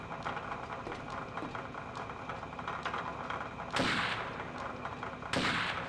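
Sniper rifle fire in the video game Second Sight, two heavy, booming shots standing out over a busy background of game sounds, each with a short tail.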